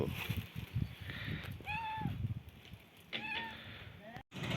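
A cat meows twice, short rising cries close by, over muffled background rustling and a voice.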